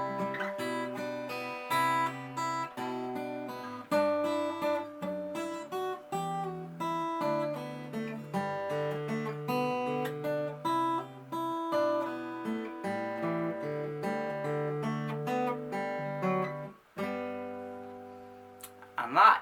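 Fingerstyle acoustic guitar plays the lilting Irish tune Out On The Ocean, with plucked notes over bass lines, steady and close, ending on a ringing final chord.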